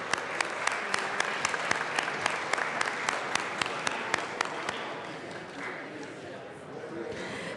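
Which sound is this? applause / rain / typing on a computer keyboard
applause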